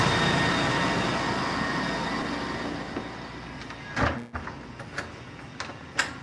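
Inside a loud data center, racks of training servers send out a dense, steady roar of fan noise throughout, with a few sharp clunks and knocks late on.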